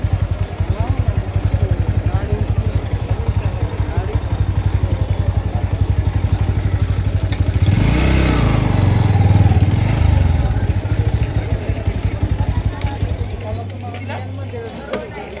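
A motorcycle engine runs steadily up close throughout, with a louder revving surge in the middle before it eases off near the end; people talk over it.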